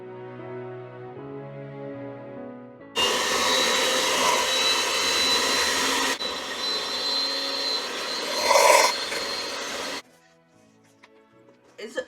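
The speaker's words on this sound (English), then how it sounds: "And now I am going to blend." A blender whips cold process soap into a creamy whipped soap, a loud steady motor whir running for about seven seconds with a brief surge near the end, framed by quieter moments with background sound.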